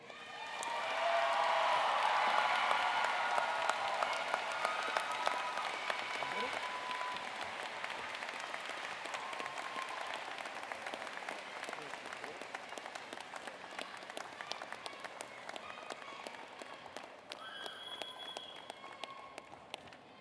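A large crowd at a commencement ceremony applauds steadily, the clapping loudest at the start and then easing into a sustained, slightly thinner patter that continues to the end.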